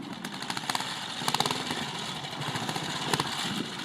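A Valocet trials motorcycle ridden on a Premier route at a club trials event, its engine revving in short bursts with a choppy, uneven rhythm, fairly close but moderately loud, with no talk over it.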